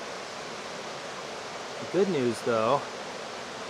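Crown Creek rushes past at a backcountry crossing, a steady, even wash of flowing water close by, with someone briefly speaking over it.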